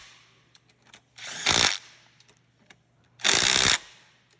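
Handlebar bolts on a Venom 110cc Mini Madix ATV are tightened in two short, loud whirring bursts from a tool, with faint clicks and taps between them.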